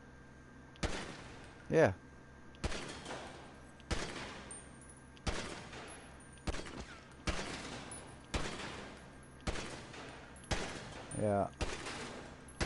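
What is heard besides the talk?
semi-automatic pistol shots in the video game GTA V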